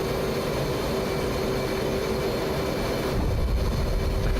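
An F/A-18 in the flight simulator DCS touches down on an aircraft carrier, a loud continuous jet engine roar and rumble with a sharper surge of noise toward the end, heard alone without talk.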